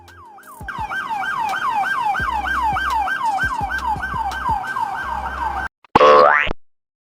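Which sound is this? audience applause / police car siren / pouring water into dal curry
police car siren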